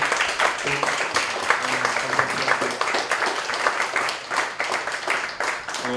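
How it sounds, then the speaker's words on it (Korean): An audience at an open study session applauds three presenters with steady, dense clapping that fills the room throughout, and faint voices sit beneath it. "우리 세 분께 우리 다시 한번 우리 박수로 같이 한번 인사를"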